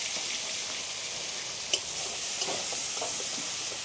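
Vegetables frying in a pan with salt and chili powder for a curry of ridge gourd and potato, a steady broad sizzle with a sharp tap and a few light stirring scrapes, no talk.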